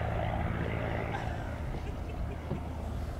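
The engine of a vintage de Havilland DH-51 biplane at an evening air display at Old Warden gives a continuous, moderately loud rumbling drone, heard somewhat distant with outdoor ambience.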